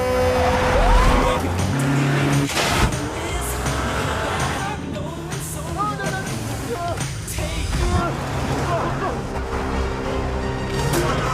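Cars in a high-speed chase from the Moon Knight series roar loudly and continuously, with engines revving, tires screeching and skidding, and vehicles rushing past up close. No one talks over the din.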